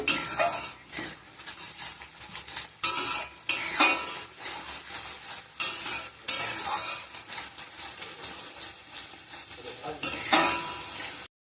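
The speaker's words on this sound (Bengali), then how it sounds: "ভালো করে নাড়িয়ে চাড়িয়ে" Chilli powder, turmeric and cumin powder being stirred in a pan for a pointed gourd and shrimp malaikari, loud repeated scraping of a spatula against metal over a constant frying sizzle.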